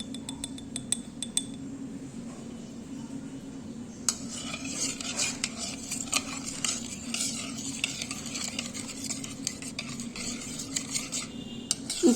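A spoon stirring sugar and yeast into warm milk in a bowl: bright metallic clinks and scrapes come in quick irregular bursts over a steady low kitchen hum, with no talking.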